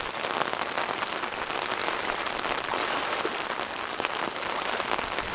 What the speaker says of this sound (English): show some of the rain that's hitting the water